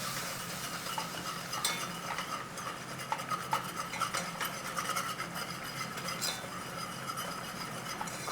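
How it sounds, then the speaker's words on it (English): Flour roux for a quick cheese sauce being stirred in a pan, with a steady soft scraping and occasional light clinks of a utensil, close and quiet with no talking. "Give it a little stir on."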